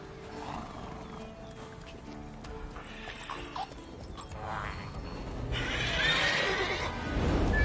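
Roach the horse in The Witcher 3 video game gives a whinnying neigh amid clip-clopping hooves and game ambience, growing louder toward the end.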